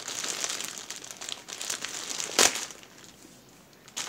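A squishy toy package is torn and opened by hand with continuous close plastic crinkling and rustling, then one sharp loud rip midway before quieter handling resumes.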